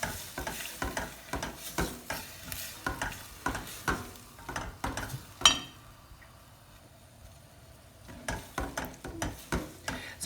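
Onion and garlic cooking gently in a pan for sloppy joes, soft sizzling with rhythmic spoon stirring and scraping, a brief pause of near quiet, then the stirring resumes.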